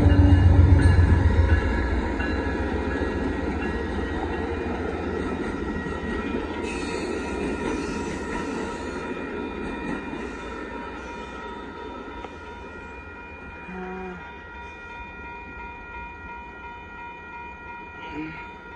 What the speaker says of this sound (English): There goes our northbound Amtrak Texas.